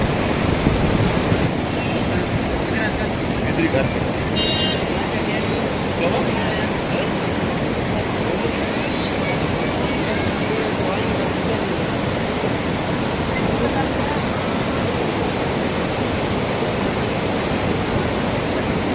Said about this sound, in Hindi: महेंद्र में बरसात के बाद के हालात हैं जो वो बरसाती नाले हैं जो वो इस समय उफान पर हैं।